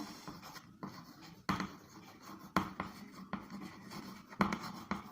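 Chalk or marker writing out an equation on a classroom board, with soft scratchy strokes and distinct taps at intervals, heard up close and quiet, no voices.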